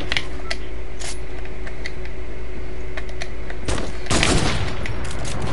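Gunfire from a Fortnite match bursts out in a few sharp cracks, with a louder, denser blast near the end that fits a quick-scoped sniper rifle shot, set over constant game background noise.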